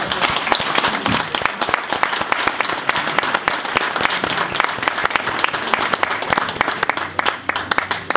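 Vigorous, loud audience applause at a 2015 company launch event, dense rapid clapping sustained evenly across the whole stretch with a few sharp individual claps on top.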